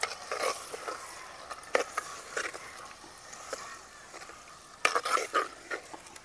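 A spoon clinks and scrapes as chicken is mixed in a pot with turmeric, salt and squeezed lemon juice, giving irregular soft knocks and a few sharper taps over a quiet background.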